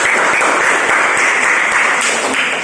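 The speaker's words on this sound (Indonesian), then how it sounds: "Oke, kasih aplaus buat kelompok." Sustained applause from a classroom audience for a group's presentation, dense steady clapping filling the whole moment at a loud, even level.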